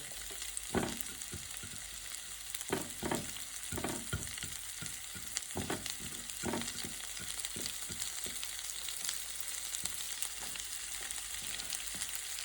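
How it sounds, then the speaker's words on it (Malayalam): Chopped onions fry in a pan for palak paneer, a steady crackling sizzle close by, punctuated by irregular scraping stirs of a spatula. "അതിലേക്ക് നമ്മൾ നമ്മുടെ സവാള നല്ലപോലെ അരിഞ്ഞ് വെച്ച സവാള അങ്ങോട്ട് ഇട്ട് കൊടുക്കുന്നുണ്ട്."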